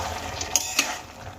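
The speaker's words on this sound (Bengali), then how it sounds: "এবার আমি নুন দেওয়ার পর একবার নাড়িয়ে চাড়িয়ে নেব।" A spoon stirs raw tomatoes with salt in a pot or bowl: two clinks of metal against the dish, a soft scraping stir in between, and no talk.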